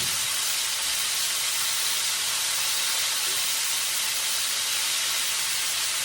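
Steak fries frying in hot oil give a steady, loud, dense hiss and sizzle that carries unchanged from start to finish, with no voices.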